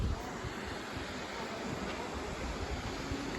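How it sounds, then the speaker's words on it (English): Steady, broad rushing of a waterfall seen from a distance outdoors, an even continuous roar with no voices. "There we go, the waterfall we couldn't walk to."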